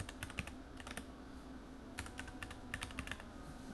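Typing on a computer keyboard: quiet, close clusters of quick clicks come in short irregular bursts, pausing briefly between runs, with no talking.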